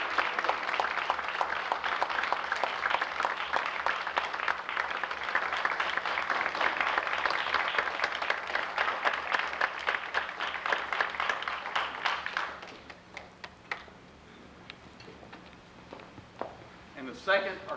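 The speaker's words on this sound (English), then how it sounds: "Thank these people with your applause." Audience at a museum trustee reception applauding honored life members, sustained clapping for about twelve seconds before tapering into scattered claps and room noise.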